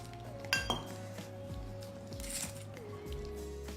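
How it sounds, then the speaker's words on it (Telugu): Close clinks and taps of a utensil against a bowl, with soft wet squishing as pakoda batter is mixed smooth with water, brief and fairly quiet. "ఇలా పిండిని ఉండలు లేకుండా కలిపేసుకోండి"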